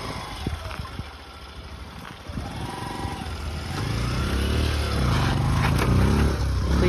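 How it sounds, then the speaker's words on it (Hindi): A Bajaj Boxer 125cc motorcycle rides over rough off-road ground, its single-cylinder engine rising from a low idle to a steadier, louder pull near the microphone, with scattered knocks and scrapes. "यहाँ पे भी बाइक जो है वो इजीली निकल गई है।"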